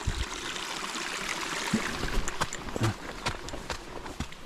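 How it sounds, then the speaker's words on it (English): Stream water flows and trickles close by as a hiker crosses it on a cliffside trail, with scattered clicks and knocks of footsteps on rocks over the continuous rush. "I'm crossing the stream now."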